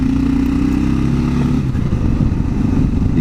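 A 2022 Kawasaki KLR650 motorcycle on the road with Motoz Tractionator adventure tires, giving a steady loud engine drone with a low tonal tire whine underneath, shifting slightly partway through.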